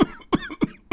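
Four harsh coughs come close and loud in a steady rhythm, brought on by smoke from cooking on a smoky home stove.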